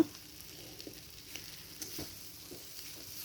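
Gobindobhog rice frying in a pan gives a quiet, steady sizzle, with occasional soft scrapes and taps from stirring and no voices.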